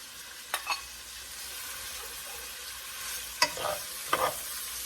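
Orange and red mini sweet peppers fry with cabbage in a pan, a soft steady sizzle broken by a few sharp clanks and scrapes of stirring, with no talking.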